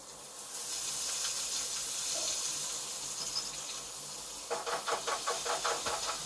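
Peanuts, green chillies and curry leaves fry in a pan with a steady loud hiss, joined near the end by a series of quick stirring scrapes and crackles.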